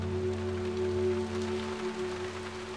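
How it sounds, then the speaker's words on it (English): Steady rain falls outdoors at Loch Fyne, a soft, continuous hiss over a low, constant hum, with no voices. "if we can make ourselves heard above the rain"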